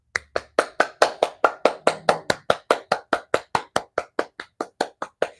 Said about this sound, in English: Now we're gonna clap.